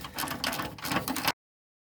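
Front bolts come out of the transfer case skid plate on a 2005 Jeep Grand Cherokee Trail Rated, a close burst of rattling ratchet or impact clicks lasting about a second before stopping cleanly.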